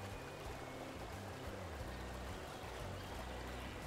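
A river in the video game Xenoblade Chronicles flows in a steady, even rush of water that fills the whole scene without pause, with a low murmur underneath and no talking.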